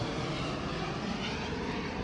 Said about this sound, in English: Have another plane going over.